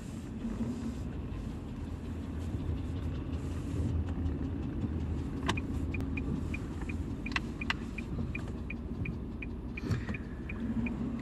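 A car driving slowly through a crowded residential area while looking for parking: steady low engine and road rumble inside the cabin, with a faint repeating ticking, no talk.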